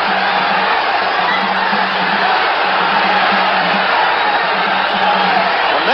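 Crowd noise at a boxing match during a late round, a steady distant roar of spectators that stays level throughout, with a faint low hum underneath.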